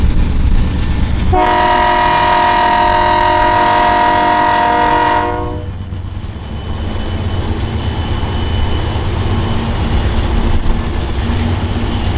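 A freight train led by Union Pacific ES44C4 diesel locomotive 5972 blasts a long chorded horn, then rumbles steadily past nearby with a continuous heavy rolling roar.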